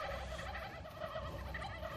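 Flock of turkeys gobbling in the video game How to Survive 2, a dense, continuous chorus of warbling gobbles at steady loudness throughout, with no talk over it.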